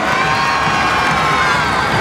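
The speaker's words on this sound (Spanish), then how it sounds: "A ellos un fuerte aplauso" A loud crowd at a church gathering with a cardinal and catechist cheers and shouts, many voices including children blending into a dense, sustained roar close by.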